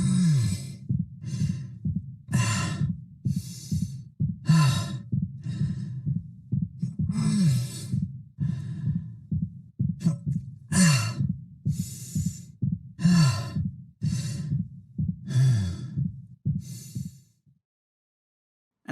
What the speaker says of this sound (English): hearing those injured winces, those fatigued breaths mixed in with his regular breathing actually sounds quite natural